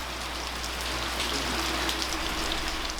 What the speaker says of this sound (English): The raindrops falling from the roof of this traditional house sound like music.